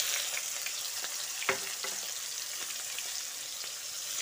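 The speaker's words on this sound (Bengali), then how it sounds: "পেঁয়াজটাকে একটু খুব ভালো করে ফ্রাই করে নিতে হবে।" Thinly sliced large onions frying in oil with chicken juices and a little salt, a continuous close sizzle with occasional light scraping clicks, heard alone.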